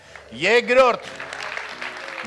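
A voice rings out briefly before an audience at a live Armenian comedy league show bursts into applause, a dense clapping wash that continues to the end.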